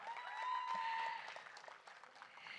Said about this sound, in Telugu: మరి ఒక్కసారి ఆవిడకి కూడా గట్టిగా చప్పట్లు కొడదామా.